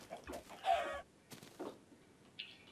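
A Minecraft chicken gives a few short clucks, close and clear, in quiet bursts spread across a couple of seconds.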